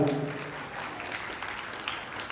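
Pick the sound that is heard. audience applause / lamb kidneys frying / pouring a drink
audience applause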